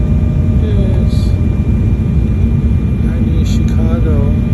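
Inside the cabin of a jet airliner landing at Chicago O'Hare, a loud steady roar of engines and airflow fills everything, with faint voices talking quietly under it.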